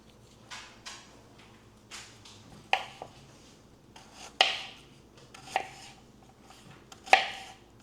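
A knife slices turkey pieces on a slant for Haitian fried turkey (tasso), giving a series of sharp, close chopping knocks at irregular intervals against a quiet kitchen background.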